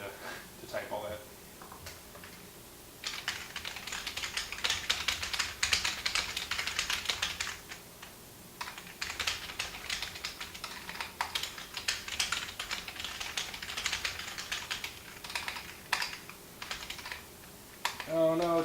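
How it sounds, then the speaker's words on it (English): Steady typing on a Kinesis Maxim split ergonomic keyboard, dense rapid key clicks in quick bursts with a few short pauses, close and moderately loud. "it's pretty easy to type all that"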